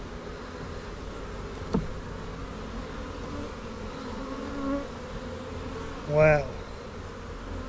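Honeybees buzz continuously around an open beehive that is being expanded with a second deep brood box. The hum is steady and close, single bees swell loudly as they pass the microphone, and a person speaks briefly.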